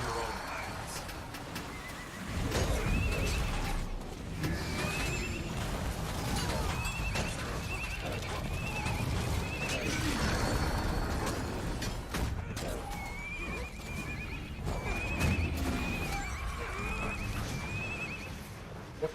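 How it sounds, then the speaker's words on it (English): Repeated horse neighs and whinnies fired from a unicorn-launching legendary weapon in the Guild Wars 2 video game, recurring over loud game combat noise with hoof-like clatter and players talking. "Sounds like horses because they're firing unicorns."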